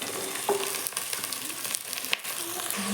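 Onions and green chillies fry in a pan, giving a quiet, continuous sizzle with a few faint stirring clicks over a few seconds.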